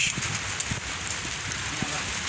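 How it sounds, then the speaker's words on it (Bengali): Light evening drizzle patters steadily on the bank of the Padma River, a soft continuous hiss with occasional faint drop taps. "এমন স্নিগ্ধ সন্ধ্যায় মৃদুমন্দ্র বৃষ্টি ঝিরিঝিরি বৃষ্টি বাতাস বইছে"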